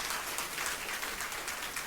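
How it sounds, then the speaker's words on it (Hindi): A church congregation claps during a Christmas sermon, a dense, steady wash of applause that fills the whole moment with no voice over it. "तालियां बजा के प्रभु का धन्यवाद"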